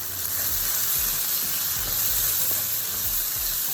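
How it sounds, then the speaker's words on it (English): Flaked salted pollock sautés in a pan with a steady, close sizzling hiss and occasional light stirring scrapes, with no voices. "We're gonna saute this for a few minutes"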